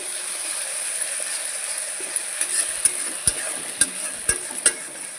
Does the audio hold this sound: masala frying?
yes